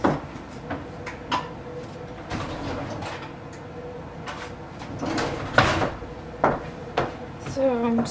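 Pantry cupboard doors opened and closed in a home kitchen, giving a few sharp knocks and soft clunks over a steady background hum, fairly close and moderately loud, with brief rummaging between the bangs.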